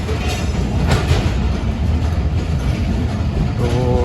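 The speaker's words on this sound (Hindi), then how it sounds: "तो कोटरी जंक्शन रेलवे स्टेशन से चल पड़ी है।" Pakistan Express passenger train pulling out of Kotri Junction, a continuous loud rumble of wheels and carriages with faint rail clatter, no voices.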